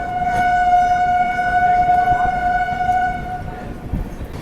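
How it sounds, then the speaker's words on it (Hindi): Patna–Banaras Jan Shatabdi Express approaching a crossing on an Indian railway line, with a long steady horn tone sounding over continuous rumbling rail noise that stays loud throughout and fades slightly near the end. "जन शताब्दी आ रही है यहाँ पे,"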